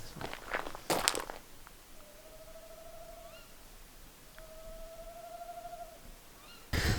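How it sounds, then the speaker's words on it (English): An owl hoots twice at night near castle buildings in the Scottish Highlands, each call a drawn-out tone spaced a few seconds apart, fairly faint and distant, with footsteps crunching and rustling close by at the start and end. "just a random owl comes out of nowhere"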